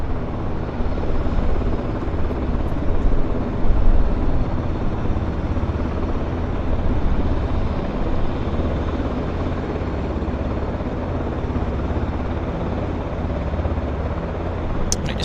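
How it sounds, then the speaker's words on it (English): A large helicopter at Vancouver Airport running its engine and rotors, a loud, steady chopping drone that holds throughout without pause. "You can hear the blades chopping the air."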